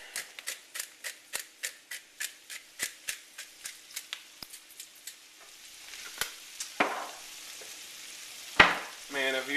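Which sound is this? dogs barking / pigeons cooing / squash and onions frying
squash and onions frying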